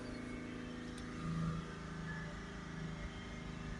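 A BMW X5 E70 3.0 diesel engine held steady at about 3000 RPM gives a continuous, even drone with a slight swell partway through, close by and with no voices.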